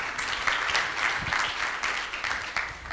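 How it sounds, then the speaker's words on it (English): An audience at a conference panel on mobile payments applauds, a few seconds of steady, moderately dense clapping from a seated crowd heard at some distance. "Please give them a round of applause."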